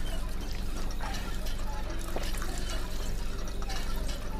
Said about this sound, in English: pump water